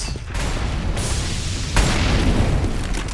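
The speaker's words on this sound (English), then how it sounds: "Lots of early grenades." Grenades burst in Counter-Strike on the Train map during a pro match, giving loud, dense booms with a sharp fresh blast partway through and rumbling debris noise throughout, with no voices over them.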